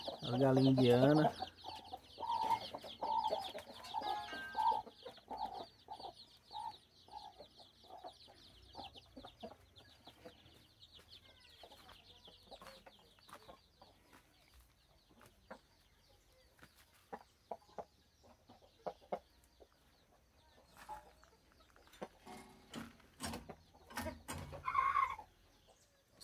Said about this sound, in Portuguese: As galinhas indianas.